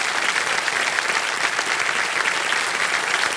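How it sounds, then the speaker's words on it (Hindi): Studio audience on the game show Kaun Banega Crorepati claps for a contestant winning a cheque, a loud, dense, continuous burst of applause filling the whole stretch with no talk. "तालियां बज जाए इनके लिए"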